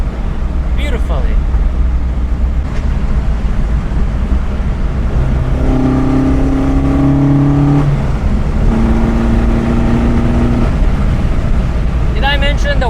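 On board an Alfa Romeo 1750 GTV on the move, a steady engine drone and wind roar fill the cabin, with the pitch climbing and holding through gear changes, close and constant.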